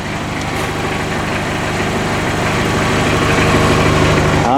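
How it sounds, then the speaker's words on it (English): A 1986 Ford Escort wagon's 2.0L diesel engine idles unusually low, with a loud, steady, rumbling clatter close up that holds constant throughout. "allow it to run for 15 minutes just to see if the idle's behaving normally"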